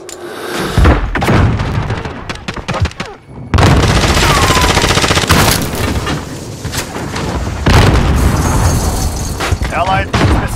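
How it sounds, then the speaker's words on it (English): Loud, dense bursts of explosions and gunfire from a Modern Warfare match during a missile strike, booming impacts layered with rapid shots and brief gaps, with voices heard throughout. "Allied missile launch."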